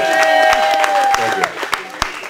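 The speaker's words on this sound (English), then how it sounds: "have a nice round of applause for Mr. Ken Steele from AMA30" At a Smart & Final store event in Lake Forest, a small crowd gives a brief round of applause for a guest, scattered claps thinning out over about two seconds while a voice talks beneath and a tonal hum runs early on.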